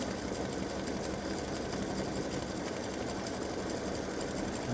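An embroidery sewing machine stitches a freestanding lace dog paw, a continuous dense mechanical whir with a rapid even needle rhythm that runs loud and steady throughout, with no voices.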